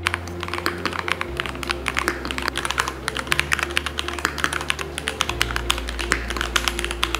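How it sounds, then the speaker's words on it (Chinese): Fast, crisp typing on a MelGeek Mojo68 transparent plastic wireless mechanical keyboard with Gatorade white linear switches; a rapid, close stream of light, clicky keystrokes over a low steady hum. "另外第三种是 Gatorade 白轴，它也是一种线性轴，敲打轻松，手感轻盈，不过它按压的声音比较清脆"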